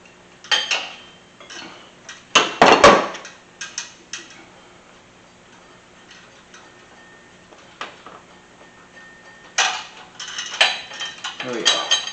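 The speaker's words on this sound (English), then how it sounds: "Now we can unthread the EGR tube that merges the two sides together." Metallic clicks and ticks of a wrench unthreading an EGR tube during an engine teardown, in irregular bursts with quiet gaps between, close and moderately loud.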